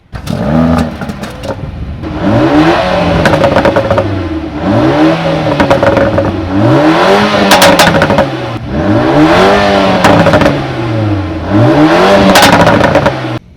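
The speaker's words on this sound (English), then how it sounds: "now we can listen to the startup, emotion start, and also to some revs" A 2024 Mercedes-AMG A35 4MATIC facelift's four-cylinder engine starts, then is revved again and again, loud and close, each rev rising and falling back to idle in a series of swooping pulls with crackling on the overrun.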